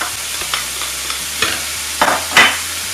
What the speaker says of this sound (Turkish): Kıymayı biraz kavurdum. Üzerine bir adet soğanı yemeklik doğrayıp ilave ediyorum.